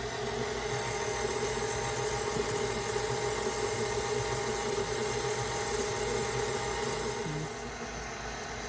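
Electric mixer churning cookie dough, with vanilla just added, on its low setting, a steady droning motor hum that runs unbroken and close for most of the stretch before dropping slightly softer near the end.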